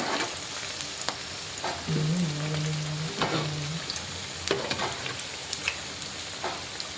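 A snack frying in a pan of oil with hot oil spooned over the top, steady close sizzling with occasional sharper pops and a brief tonal hum in the background.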